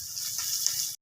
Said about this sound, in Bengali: দেবো অল্প জল